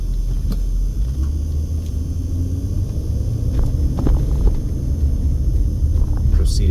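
Car heading south on a rough, bumpy stretch of Belmont Street in North Las Vegas, a steady low road rumble with faint knocks and jolts from the bumps, continuous and close throughout.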